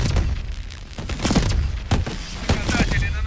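Gunfire in the video game Call of Duty: Advanced Warfare, in a biolab mission: a series of loud, booming shots and thuds spaced irregularly over rumbling background noise.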